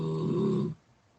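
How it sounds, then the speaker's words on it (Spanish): A person snores in a classroom, one loud rasping, buzzy inhalation lasting under a second before cutting off into quiet room tone. "¿Quién está roncando?"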